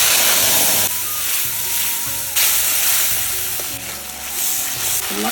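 Whole garam masala with bay leaf, dried chilli and cumin sizzles loudly in hot oil, a continuous close frying hiss that swells and settles as the spices are stirred.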